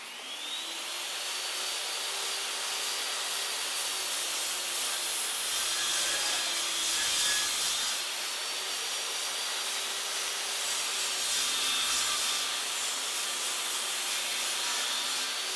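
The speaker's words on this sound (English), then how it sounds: "All we need to do is to make a rip cut using just the saw's fence." Table saw making a rip cut along wood stock using only the fence to form a hive top ventilation shim, a continuous hissing, rasping blade whine that holds steady and slightly swells midway, with no voices.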